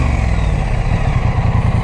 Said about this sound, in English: Beautiful exhaust note. It has that bassy and that thunderish feel which you can expect out of this 270-degree parallel